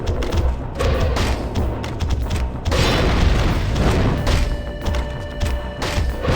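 A spear gun fires repeatedly in the Ninja Gaiden Sigma video game, heavy booming thumps in quick bursts, loud and close over a busy game soundscape.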